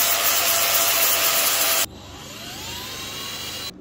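An angle grinder grinds primer off car sheet metal down to clean bare metal before a hole is flux core welded. It gives a loud, harsh, steady grind for about two seconds, then cuts to a quieter fading whine.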